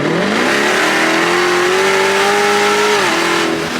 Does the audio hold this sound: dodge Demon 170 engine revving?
yes